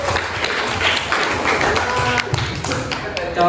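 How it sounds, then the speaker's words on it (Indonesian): Clapping from a high-school history classroom in Indonesia, a scattered burst of hands applauding a student, with chatter and voices mixed in throughout. "beri tepuk tangan dulu buat"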